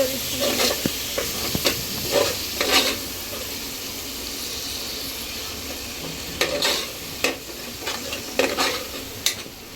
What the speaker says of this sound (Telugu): అడుగంటకుండా సిమ్లో పెట్టుకొని వేయించుకోవాలి